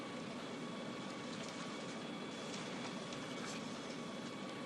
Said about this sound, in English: How long is this silly train gonna take?